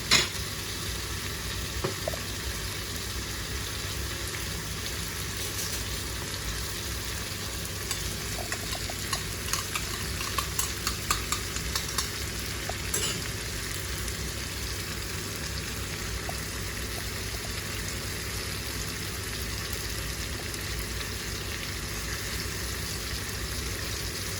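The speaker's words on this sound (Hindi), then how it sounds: "अब हम इसमें योगर्ट ऐड करेंगे" Chicken karahi frying in a pan with yogurt just added, stirred steadily; a continuous sizzle runs throughout, with scraping stirs and occasional clinks, close and fairly loud, with no talking.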